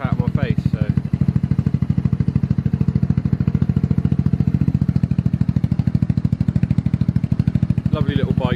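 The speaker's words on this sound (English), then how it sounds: "Get a little sound clip of that exhaust." A GY6 150cc Honda Ruckus scooter engine and exhaust run in cold weather with a steady rapid putter, loud and close, holding an even idle-like beat from start to finish.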